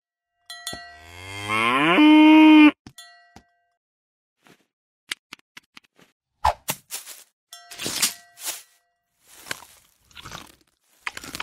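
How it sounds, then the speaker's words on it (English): A cow gives one long, loud, tonal moo that rises then holds, followed by silence and then a scattering of clangs and dings like a cowbell, irregular and close. "Cow. The cow goes moo."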